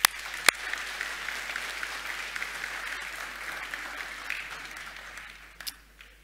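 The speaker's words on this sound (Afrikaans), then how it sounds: "Kom ons gee hulle 'n hande klap" A church congregation applauding, a sustained wash of many hands clapping that fills the room at steady loudness, then gradually thins and tapers off toward the end.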